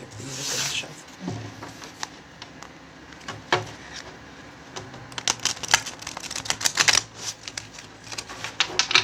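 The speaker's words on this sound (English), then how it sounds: "I'll give these a good shuffle." Tarot cards being given a good shuffle by hand; a quick burst of riffling and sliding, with soft taps, clicks and rustles building into dense close crackling toward the end.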